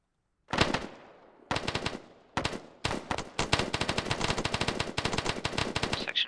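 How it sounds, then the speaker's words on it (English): Rapid machine gun fire during 6th Airborne Division section training: an opening burst, then separate rattling volleys that merge into a long, continuous stream of sharp close shots with no talk over them. "Rapid fire."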